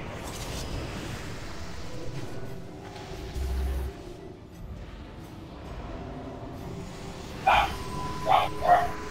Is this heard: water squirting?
no